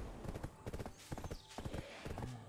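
Horse hooves clip-clopping in the Black Desert video game, a quick, steady run of sharp hoof beats, close and fairly loud, with a brief whinny and game ambience behind them.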